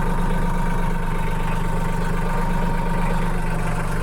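A farm tractor engine runs steadily at idle, a continuous low rumble with a mid-range drone that stays close and unchanging, with no voices heard.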